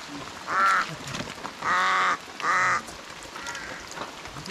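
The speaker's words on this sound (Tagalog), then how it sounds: "Pato." Three loud, nasal duck quacks in a row, each lasting about half a second, with quiet background noise between them.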